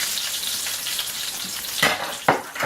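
Vegetables and artichoke hearts sauté in a pan that previously held turkey scallopini, a steady close sizzle with a couple of sharper stirring scrapes near the end.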